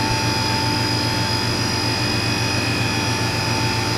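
A Haas VF3 CNC mill spindle spins at 10,000 RPM, a loud steady high-pitched whine with layered tonal hum that holds constant and unbroken throughout.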